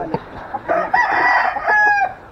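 A rooster crows loudly and close by, one long, strained cock-a-doodle-doo rising and holding before cutting off, with a few faint clucks at the start.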